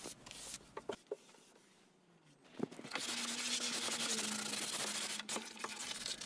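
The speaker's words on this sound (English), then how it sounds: "with our 220 grit sandpaper, I went ahead and sanded down all of that primer" 220-grit sandpaper rubs primed wood in short scratchy strokes, then a sustained stretch of steady, close sanding follows.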